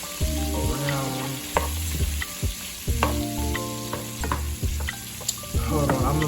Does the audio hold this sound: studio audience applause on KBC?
no